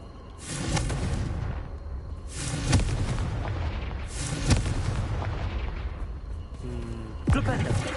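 Repeated Confringo fire-blast spells in Hogwarts Legacy, several booming explosions about a second or two apart, each with a crackling fiery rush, with game sounds between blasts.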